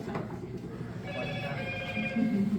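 A mobile phone rings with steady tonal beeps from about one second in, moderately loud over a murmuring room and faint crowd noise.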